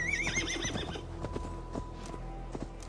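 A horse whinnies loudly, then its hooves clop in an irregular rhythm in the Assassin's Creed Valhalla video game, set against a low steady background rumble.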